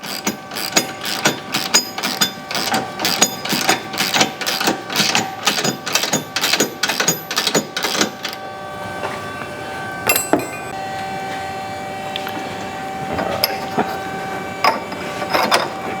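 A ratchet and socket tighten a toe link bolt on a 2015-or-later Mustang's independent rear suspension, with a rapid series of sharp clicks for about eight seconds, then a few scattered clicks over quiet.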